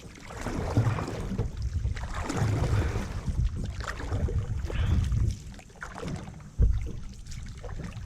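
A small boat moves through water among lily plants with splashing and sloshing, irregular paddle-like strokes and a sharper knock near the end, no voices.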